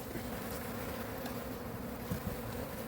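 Honey bees buzz steadily at an open hive during an inspection, a dense continuous drone close to the listener with no talk.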